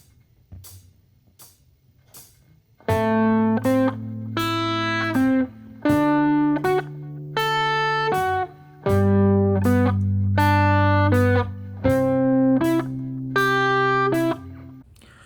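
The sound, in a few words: guitar playing pentatonic shape notes low, mid, high, mid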